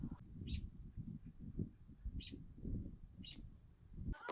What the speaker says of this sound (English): I don't know if you can hear the robins